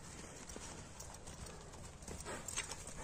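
A horse's hooves clip-clop in a soft, steady rhythm at a distance, faint against a quiet outdoor background.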